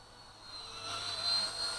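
A small Heli 101 First Step RC helicopter hovers indoors during its maiden flight, giving a steady, moderately faint whine of its motor and rotor that swells slightly as it holds height, with no talk.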